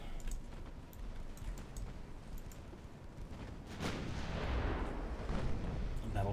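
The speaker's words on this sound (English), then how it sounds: "Battleship 5-inchers are opening up as well now." Battleship 5-inch guns firing in the naval game Ultimate Admiral Dreadnoughts, a continuous rumbling barrage of distant booms that swells louder toward the end, with no voices.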